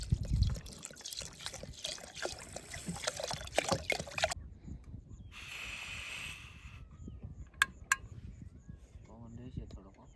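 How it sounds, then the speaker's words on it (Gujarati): Water splashes and trickles into a cooking pot for several seconds, then stops, followed by quieter handling noises and a few clanks, at an overnight camp in the forest. "એમાં નાખી દઈએ પાણી"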